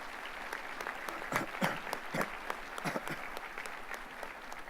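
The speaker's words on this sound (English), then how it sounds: "Let's give them a round of applause" Audience applause at a college presidential inauguration ceremony, a steady patter of many hands clapping, heard from a distance and fairly quiet, with a few louder bursts.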